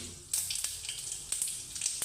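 Cumin seeds hit hot oil in a kadhai after mustard seeds have popped, giving a steady close sizzle with scattered sharp crackles and pops throughout.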